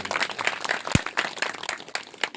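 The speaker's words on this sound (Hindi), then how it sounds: "एक बार उनके लिए जोरदार ताली बजा करते हुए।" An audience at a Hindi-language spoken discourse claps together in a dense, steady burst of applause that stays fairly close, with one heavier thump partway through.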